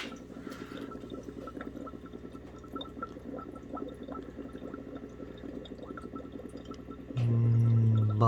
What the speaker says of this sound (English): Bubbles.